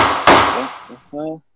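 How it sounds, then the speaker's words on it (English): A single sharp gunshot bang cracks out loud and close in a movie scene, followed by a short shouted voice after a brief pause. "that fucking gunshot?"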